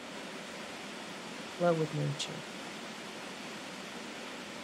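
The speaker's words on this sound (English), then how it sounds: "Leave you with a short clip of the waterfall." Steady broadband rush of a waterfall, even and continuous throughout, with a brief spoken phrase briefly over it midway.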